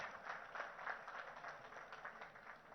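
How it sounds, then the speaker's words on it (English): An audience at a Telangana ministerial speaking event breaks into applause, a steady, dense patter of many hands clapping at a fair distance, continuous and fairly quiet throughout. "I think he deserves a bigger round of applause, guys."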